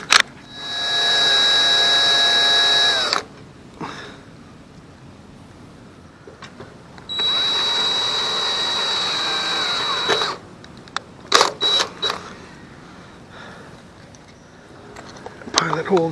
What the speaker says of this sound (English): Drill a pilot hole first.